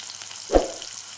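Salted onions sauté in a pan for a fish curry, giving a steady hissing sizzle with one short stirring scrape near the middle. No one talks.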